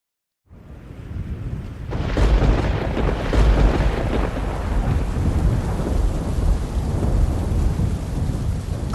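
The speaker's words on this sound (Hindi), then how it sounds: "कुछ देर के बाद बहुत तेज बारिश होने लगी।" Heavy rain pours steadily after a moment of silence, with deep rolls of thunder rumbling through the downpour in a storm, loud and continuous with no voices.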